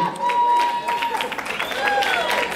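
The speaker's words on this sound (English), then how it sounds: "let's give her a round of applause" A wedding reception crowd applauding and cheering continuously for a dancer, with whistles and shouts rising over the clapping.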